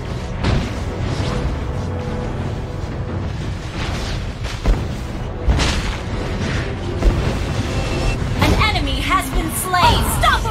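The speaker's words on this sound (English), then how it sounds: "Your team destroyed a turret!" A turret being destroyed in the Mobile Legends mobile game, heard as dull booming explosions inside a busy, loud mix of game effects and music, with a game announcer voice talking.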